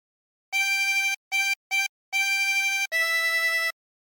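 A 24-hole tremolo harmonica plays a phrase of Waltzing Matilda: five clear, wavering reedy notes, with two short ones between longer held tones, sounding close and alone in a quiet room.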